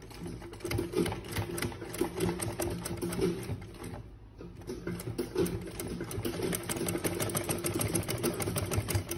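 A sewing machine stitches a scrunchie headband, running in a fast, even mechanical chatter up close, with a short pause midway before the needle resumes at a steady pace.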